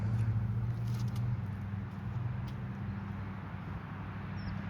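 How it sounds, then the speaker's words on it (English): Steady road traffic rumbles low and continuous beyond a swampy disc golf course, distant and unbroken, with faint chirps high above it. "Geez, the traffic is probably so loud"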